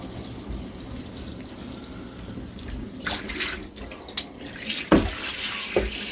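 Water runs steadily into a plastic wheelie bin, a continuous splashing fill heard up close with occasional clunks and knocks, no talking.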